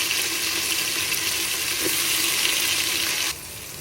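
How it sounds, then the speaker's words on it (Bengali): Seafood and chopped tomato fry in a pan with a steady, close hiss and sizzle that drops abruptly in level near the end, with no one speaking. "একটু ব্রাউন কালার হওয়া পর্যন্ত ভাজতে থাকতে হবে।"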